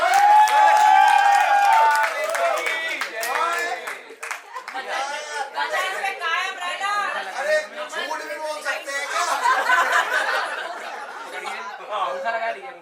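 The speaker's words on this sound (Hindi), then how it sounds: "सब लोग ताली बजाते हैं।" Wedding guests clapping and cheering during a ceremony, a dense burst of applause at first that fades into crowd chatter and scattered claps, with people talking throughout.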